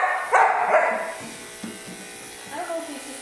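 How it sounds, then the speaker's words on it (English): A dog gives a couple of short barks and yips close by over a buzzing electric hum, with a person's voice mixed in. "I don't know if he's just barking."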